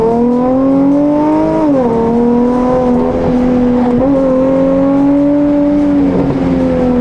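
A Dodge Challenger muscle car engine revs loudly and steadily, pitch rising and dropping through gear changes as it accelerates, close and sustained.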